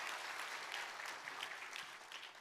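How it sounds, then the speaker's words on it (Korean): A church congregation applauds at a Sunday worship service during an award ceremony, giving steady, broad clapping that fills the room for the whole moment before fading slightly at the end. "큰 박수로 격려해 주시길 바랍니다"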